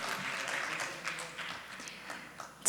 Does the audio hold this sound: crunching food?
no